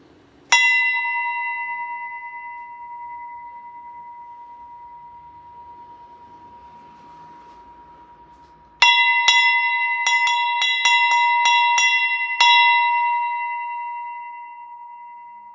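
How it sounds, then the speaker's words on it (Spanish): A loud bright bell rings once and slowly decays, then after a pause it is struck again in a quick series of ringing strokes that ring out together. "Y este es el sonido de la campana."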